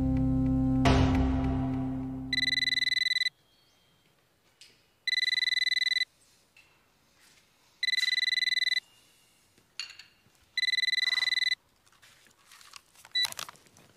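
A telephone rings in repeated electronic bursts, four short buzzing rings separated by pauses, fairly loud and close. A brief loud clatter opens the sequence and soft handling noises fill the gaps.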